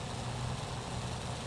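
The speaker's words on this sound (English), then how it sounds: "Here's the roar of that engine." Steady low engine roar from an aircraft in a flight video game as throttle is pushed for takeoff, a dense continuous rumble at moderate level with no talking.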